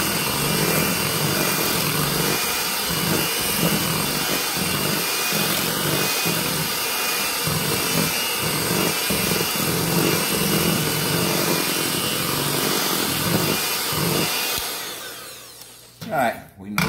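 An electric mixer whirs steadily and loudly as it beats yellow coconut cake batter in a bowl, with faint rhythmic thumps underneath. The motor cuts off near the end, leaving a few clatters.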